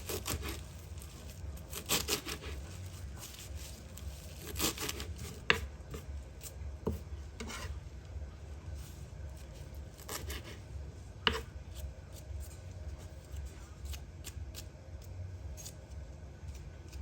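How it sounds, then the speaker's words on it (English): Parsley leaves chopped with a knife on a board for seafood spaghetti: steady repeated dry chops, close and fairly quiet, with a few sharper knocks and no talking. "So now just gonna chop the parsley leaf"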